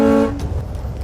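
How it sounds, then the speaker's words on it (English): Air horn on a vintage Flxible Starliner bus gives one short, loud tonal blast that cuts off quickly, leaving engine rumble and road noise. "There's 2 air horns on here. I hope you can hear these. Here's horn 1."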